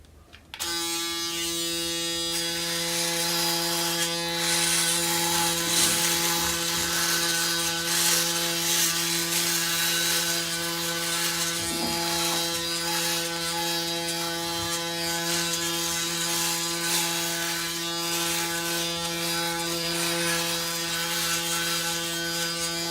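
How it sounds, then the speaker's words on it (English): Braun Series 9 electric razor buzzing loudly and close as it shaves about three days of stubble, a steady motor hum with slight changes as it moves over the skin. "we're going to test out the razor this morning"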